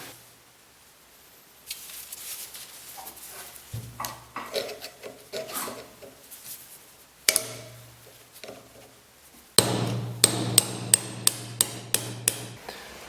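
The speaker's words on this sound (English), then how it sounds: "we're going to unstake the claw washer so we can remove the" Hammer blows unstake the claw washer on a steering rack's inner tie rod: scattered lighter metal taps first, then a loud run of about six sharp, evenly spaced strikes near the end, with no talk.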